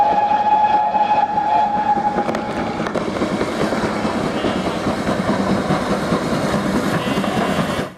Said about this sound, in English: The Hogwarts Express, originally the Great Western Railway's Alton Hall, is a real-life steam locomotive built in 1937.